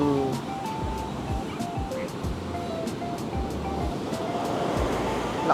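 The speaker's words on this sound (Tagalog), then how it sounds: "Lakas ng alon tsaka hangin." Strong ocean surf at Elyu rolls and crashes in a steady, dense roar with gusting wind, loud and continuous, with faint tonal sounds in the background.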